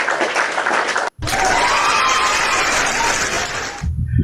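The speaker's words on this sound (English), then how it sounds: "Let me clap for you for that." A single person clapping hands, a dense burst of claps after a short pause, continuing steadily for a few seconds before stopping, with faint voices at the end.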